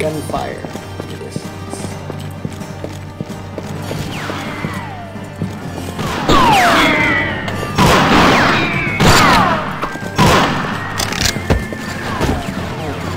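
Distant gunshots crack out in the western shooter game Smokin' Guns, a few sharp scattered reports around the middle and end, set against a steady game-world background with hoof-like clatter.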